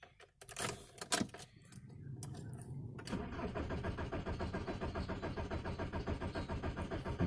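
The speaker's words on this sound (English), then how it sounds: "I'm going to see if it's enough fuel in there to fire up" A Volkswagen TDI diesel engine cranks over and over without firing, a steady rhythmic starter churn after a few knocks and clicks, close and loud, with no voices.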